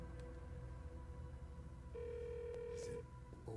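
A phone rings in the dark-place setting of the game Alan Wake 2, a single steady electronic tone lasting about a second over a low droning ambience, with a faint voice briefly present.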